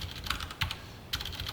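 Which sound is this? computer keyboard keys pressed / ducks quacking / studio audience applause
computer keyboard keys pressed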